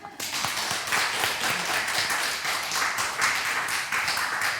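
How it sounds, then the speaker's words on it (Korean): A church congregation at a thirteenth-anniversary thanksgiving service claps together in a brisk, steady burst of many hands, close and fairly loud, sustained evenly from start to finish with no talking over it. "유현정 성도님이 박수 치자니까 한번 쳐요."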